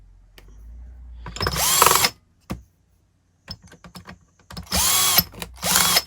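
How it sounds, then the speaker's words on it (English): A power drill unscrews screws from an HP G62 laptop in three whirring bursts that rise and fall in pitch. Small clicks and handling taps fill the quiet gaps between them. "As you can see, the drill makes my life a lot easier."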